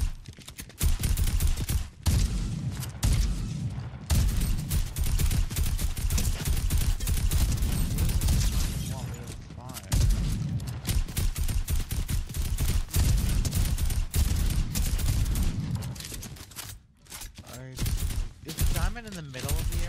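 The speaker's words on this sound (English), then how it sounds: "Oh, I hear gunshots." Dense, loud gunfire in the Fortnite video game, with rapid bursts and repeated shots almost continuous for twenty seconds, broken only by brief gaps, and voices talking underneath.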